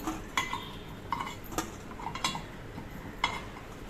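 Fasting-style fried appe being lifted out of an appe pan with a metal utensil: a few sharp metallic clinks and taps at irregular intervals, close and fairly quiet, with no talking.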